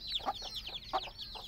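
Aseel hens and chicks clucking and peeping, several short soft clucks and high chick cheeps in quick succession, close but quiet.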